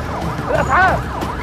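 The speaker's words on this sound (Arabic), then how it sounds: "الاسعاف يا كل اسعاف" An ambulance siren wails in rising and falling sweeps during an emergency, moderately close and fairly loud over a rough street background.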